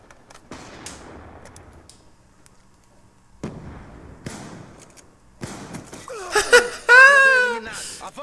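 A KSG shotgun in Black Ops 2 fires a few sharp blasts, separated by quiet gaps, each with a short echoing tail. A brief voice-like cry follows near the end.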